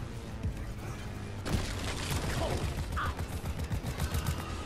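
Turrets firing in a video game, a dense rattling fusillade of rapid shots with mechanical clatter that grows louder partway through and then keeps going steadily, with talk faintly underneath.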